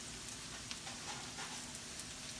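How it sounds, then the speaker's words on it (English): Country potatoes frying in a pan, a steady dense sizzle and crackle that stays constant throughout with no talking. "Y'all can just watch potatoes cook there."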